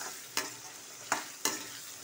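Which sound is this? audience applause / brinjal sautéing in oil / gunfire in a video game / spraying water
brinjal sautéing in oil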